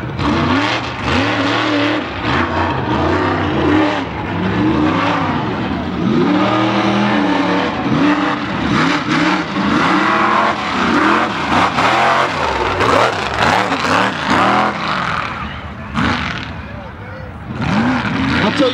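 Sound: truck revving during mud bog run

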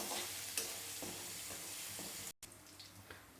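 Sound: garlic sautéing in oil with cumin and mustard seeds

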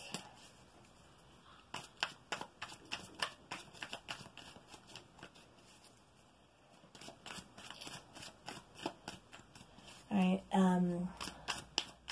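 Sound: shuffling tarot cards

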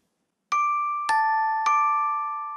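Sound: high-pitched bell tone

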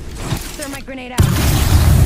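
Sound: frag grenade explosion in Apex Legends video game

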